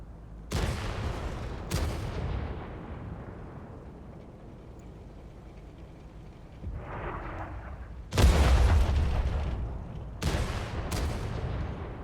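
A tank cannon in a video game fires a series of sharp, loud blasts. Two shots come close together early, and three more come later in quick succession, each booming and decaying over a low engine-like rumble.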